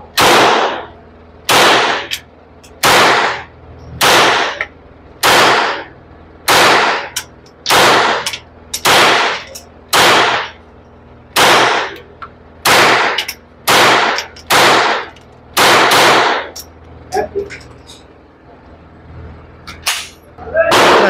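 Suppressed shots from a Taurus TX22 .22 pistol fired one after another in a steady, evenly spaced string of about fifteen sharp, loud cracks, each followed by a brief decay, with shouted voices between some shots.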